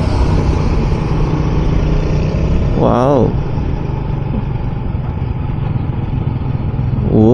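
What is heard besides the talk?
motorcycle engine while riding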